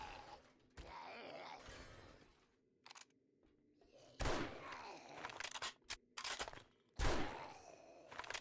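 Hunting rifle shots in a video game, a level 5 rifle, crack out as several sharp loud reports spaced a few seconds apart, each with a brief echoing tail over low background noise.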